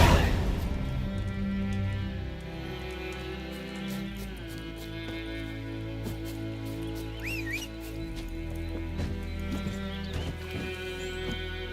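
Hooves of Geralt's horse Roach clop in a steady galloping rhythm in The Witcher 3, layered over a sustained game music and ambience bed, with a brief whinny-like sound partway through.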